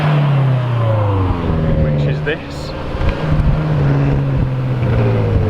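A 2017 BMW M6 sports car drives in, its engine humming and rising steadily in pitch as it approaches, loud and close, with people talking over it.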